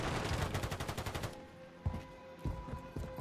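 Rapid automatic gunfire in Call of Duty: Modern Warfare III multiplayer opens with a dense burst, then gives way to several scattered single shots and impacts.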